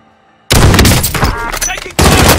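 Rapid bursts of gunfire from the Call of Duty Warzone video game, loud and dense, cutting in abruptly after a near-silent start, dipping briefly, then resuming at full volume.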